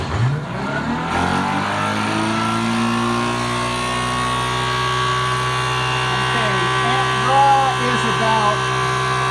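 A generator set to run near 2,800 RPM cranks and starts, its engine catching within the first second and then holding a steady, loud, even drone with a strong tonal hum, while someone speaks briefly over it.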